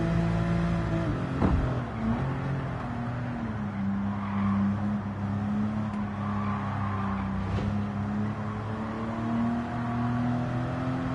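Rear-engine, rear-wheel-drive Porsche 911 RS in Gran Turismo 7, its engine droning steadily at close range with shifting pitch through gear changes and a brief tire slide, heard alone without talk.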